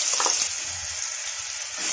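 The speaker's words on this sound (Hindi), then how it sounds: "मिक्स करते हैं और भून लेते हैं आधा मिनट" Onion paste with cloves, black pepper and cumin sizzles steadily in a hot pan, a close, continuous frying hiss with faint stirring scrapes near the start and no talk.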